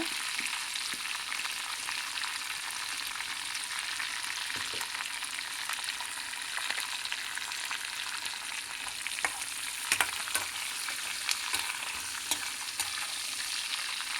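Steady, close sizzling of cashews frying in hot ghee for a dal khichdi tempering, a continuous crackle with occasional sharper pops and no talking.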